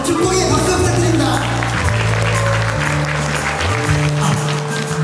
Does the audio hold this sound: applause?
yes